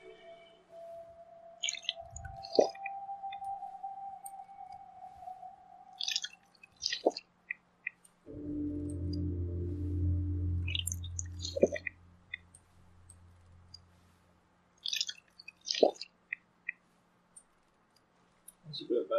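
Water being drunk by a character in Fallout 4, a run of soft wet clicks, drips and gulping squishes, with a longer swallowing burst in the middle, close and fairly quiet.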